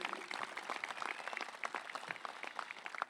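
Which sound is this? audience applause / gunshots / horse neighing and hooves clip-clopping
audience applause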